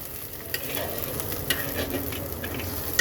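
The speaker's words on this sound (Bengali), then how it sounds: "কাঁচা লঙ্কাটাও সুন্দর করে ভেজে নেব" Green chilies frying in a pan with a steady sizzle, broken by occasional soft clinks and scrapes of stirring, close and moderately loud with no talking.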